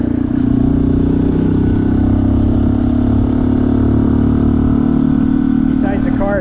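Honda CT125 motorcycle fitted with a big bore kit, ridden on a road up a mountain, its engine holding a steady mid-pitched drone close by, with a brief rising note near the end.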